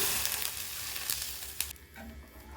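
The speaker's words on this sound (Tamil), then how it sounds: "இப்போ தண்ணி ஊற்றிக்கலாம்" Water hits a hot pan of salted ingredients with a loud sizzling hiss that gradually softens and settles into quieter bubbling, for Maggi bread snacks.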